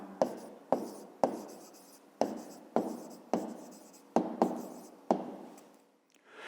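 A pen writes an answer by hand on paper in a maths exercise: about ten short, crisp strokes in an uneven rhythm, close and quiet, with no talk.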